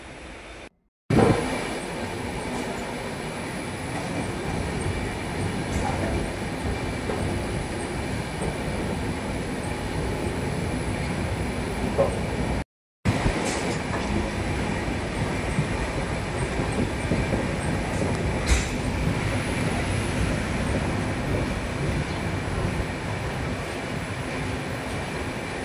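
Inside a moving Janshatabdi Express running from Mumbai towards Hingoli, a continuous loud rumble of wheels and carriage fills the space, with faint rail clicks and two brief dropouts in the sound.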